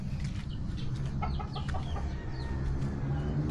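Backyard farm chickens cluck and chatter in short repeated calls over a noisy, rumbling background, moderately close.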